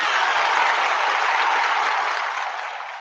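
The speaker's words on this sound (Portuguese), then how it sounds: "Bate palmas aí para ele" A group claps for Jason, a morning-show regular, in a steady dense patter that holds for a few seconds and then tapers slightly.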